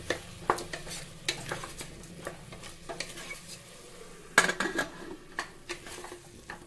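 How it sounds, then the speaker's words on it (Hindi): Masala with potatoes stirred and fried in a pan for tomato-potato sabzi, a soft constant sizzle broken by scraping spoon strokes against the pan at an irregular rhythm, heard close with no voices. "मसाले को हम बीच बीच में चलाते हुए भुनेंगे।"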